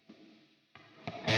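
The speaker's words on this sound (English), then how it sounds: "I want to see what their reverb sounds like." Short guitar-like bursts through an amp simulator's small-room reverb trail off into a roomy reverberant tail, repeating three times and growing louder, ending in a bright, distorted wash.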